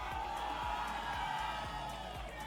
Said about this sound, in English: Have some excitement happening on DDR singles right now if you're hearing some cheering in the background